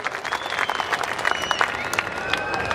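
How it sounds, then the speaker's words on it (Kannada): An audience at a public festival event in Aneguni bursts into sustained, dense applause, many hands clapping together at close range, with faint voices mixed in. "ತುಂಬು ಹೃದಯದಿಂದ ಚಪ್ಪಾಳೆ ಮೂಲಕ ನಾವು ನಮ್ಮ ಜಿಲ್ಲಾಡಳಿತಕ್ಕೆ ನಾವು ಅಭಿನಂದನೆಗಳನ್ನ ಸಲ್ಲಿಸಬೇಕು"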